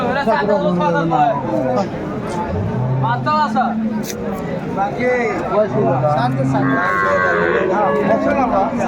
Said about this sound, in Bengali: সুন্দর একটি গাভী বাছুর